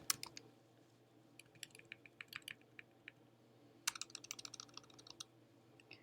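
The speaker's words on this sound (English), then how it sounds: "just backspace and type in the text that you would like." Typing on a computer keyboard while editing text on a slide: scattered light key clicks, a short burst near the start, then steady tapping and a denser flurry of keystrokes toward the end, close and quiet over a faint hum, no speech.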